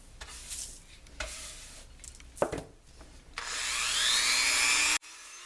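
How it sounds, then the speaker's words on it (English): A Dremel cutting disc slicing vertical lines into a box mod enclosure: scattered scraping and handling noises, then a sustained high whining grind for about a second and a half that stops abruptly. "with the cutting disc here, we're going to cut these vertical lines"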